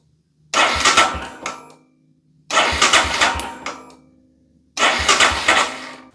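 A Royal Enfield Scram 411 engine cranks over three times with the spark plug cap off, each burst a loud rapid churning from the starter lasting about a second and a half, separated by short pauses, without firing.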